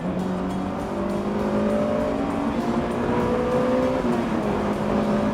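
A Honda S2000 with its 2-litre twin-cam engine revs high and hard, the tone climbing steadily through the gears with a brief shift dip around the four-second mark, loud and sustained from inside the car.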